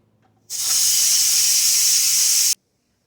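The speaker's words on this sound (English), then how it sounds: "Get a spoon, another tool, and move the knob to let all the steam out." An Instant Pot pressure cooker venting steam through its release knob, a loud, steady hiss that starts abruptly, holds for about two seconds and cuts off sharply.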